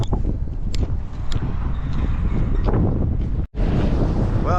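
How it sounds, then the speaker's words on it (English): Strong wind buffets the microphone while walking outdoors through the Lachine industrial sector of Montreal, a loud, continuous roaring rumble with gusty swells and one brief dropout near the end. "it's way too windy to hang around here"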